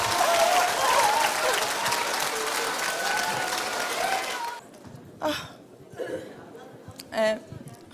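Large audience applause at an Atomy company event, loud dense clapping with cheers that fades abruptly, followed by scattered quieter claps and murmurs.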